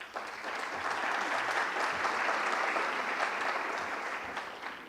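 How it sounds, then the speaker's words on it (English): Conference audience applause, a soft continuous wash of many hands clapping that rises quickly and holds steady for about five seconds, heard from a distance and alone. "I think this deserves a big clap from all of you."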